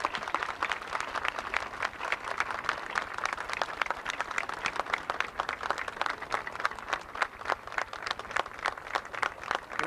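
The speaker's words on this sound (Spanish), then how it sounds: "Un buen aplauso." Applause from the crowd at a 1995 grand opening and ribbon-cutting ceremony: steady, moderately faint clapping from many hands that lasts about ten seconds without pause.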